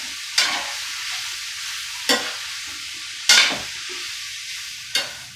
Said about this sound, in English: I'm getting them in my skillet. Because I am going to saute these just for a minute.